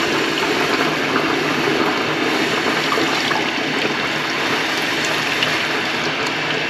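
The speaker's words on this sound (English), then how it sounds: "So I'm going to drain this water out." Soapy water drains out of an air induction system for a Eurocompulsion V4, a steady, loud, close gushing and bubbling rush that continues without pause or talk.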